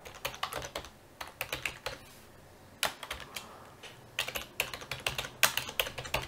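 Code being typed on a computer keyboard while programming an Arduino, with quick clusters of crisp close keystrokes separated by short quiet pauses, fairly soft and with no talking.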